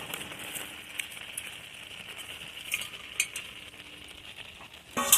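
Fried hilsa and prawn pieces are stirred into a kalmi greens and taro curry in a pan, with a steady close sizzle, soft scraping spatula strokes, a few sharp metal clinks and a louder clatter at the end.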